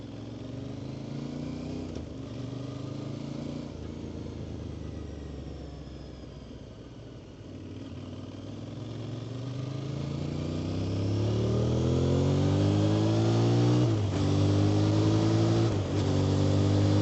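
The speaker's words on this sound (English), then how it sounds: "Bunch of guys on ADV bikes today." Several adventure motorcycles ride past at a forest OHV park entrance, engine rumble rising from a distant drone to a louder, closer revving pass toward the end.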